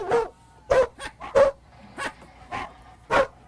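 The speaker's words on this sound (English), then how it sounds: "that's a dog barking" Several sharp dog barks in quick bursts, loud and close, with short pauses between them and no other sound.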